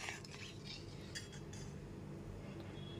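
Spoon scraping and clinking in a pan of curry as water is stirred into a potato and elephant foot yam dalna, steady soft stirring with brief metallic chinks throughout, no talk.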